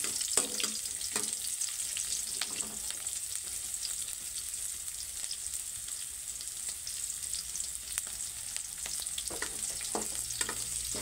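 Onion frying in a pan for chicken adobo, a steady close sizzle with occasional stirring clatter and scrapes, and no talking over it.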